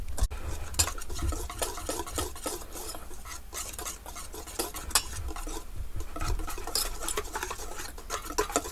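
Flour and powdery dry ingredients being whisked in a bowl in a boat galley, a busy, rapid scraping and rattling that stays steady and close throughout.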